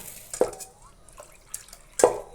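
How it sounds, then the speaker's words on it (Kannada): Water carrying soaked mung beans is poured into a container in a kitchen, making a few short splashy pours and drips with clinks between them, close and moderately loud. "ಈ ಇವು ತೊಗೊಂಡಿರೋ ಹೆಸರನ್ನ ನೀರೊಳಗೆ ಬಿಡಬೇಕು ಇದನ್ನು ಮತ್ತು ಈ ನೀರನ್ನ ಇದಕ್ಕೆ ಹಾಕ್ಕೊಳ್ಬೇಕು"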